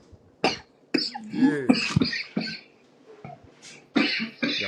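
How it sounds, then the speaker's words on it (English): A man on a podcast coughs loudly and close to the mic in several harsh bursts with short gaps between them, and a brief spoken word slips in among the coughs. "Got my man coughing on the pod"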